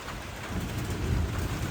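Heavy rain falls outdoors with a low rumble of thunder rolling beneath it, a dense, close wash of sound that swells slightly partway through.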